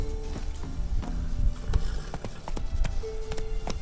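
Hoofbeats of a horse in The Witcher 3 video game clop steadily and up close, mixed with tonal game sounds and no clear speech.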